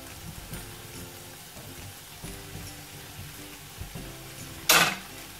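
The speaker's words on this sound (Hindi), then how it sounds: "नूडल्स को हम मिक्स करेंगे इसके साथ।" Noodles tossed into a pan with rice and vegetables for Singaporean-style rice, giving a steady low frying sizzle with soft stirring scrapes and one loud burst of sizzle near the end; no talking.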